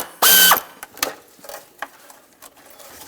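A ratchet wrench clicks as it loosens a 10mm bolt on the overflow tank of a 2006-2011 Chevy HHR: a loud initial burst, then a run of sharp, evenly spaced clicks, close up with no talk.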